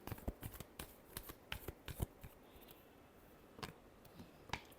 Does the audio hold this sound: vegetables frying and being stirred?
no